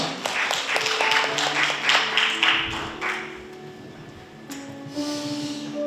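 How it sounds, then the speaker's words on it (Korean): Congregation at a church book concert claps to welcome a guest to the front, a steady patter of many hands that fades out partway through, leaving quiet room tone with a faint voice. "우리 박수로 환영해 볼까요?"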